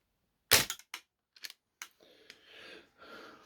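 A single sharp snap from an ASG MK1 Tactical Sniper airsoft rifle firing its first shot, followed by a few quieter mechanical clicks and then a soft, low rustle.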